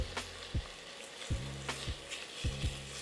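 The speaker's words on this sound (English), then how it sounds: "We're gonna give that a mix to infuse a little bit of that garlic flavor." Roasted garlic bouillon base is stirred into short rib chili frying in a pot, giving a steady close sizzle broken by several sharp knocks and scrapes of the spoon against the pot, with no talking.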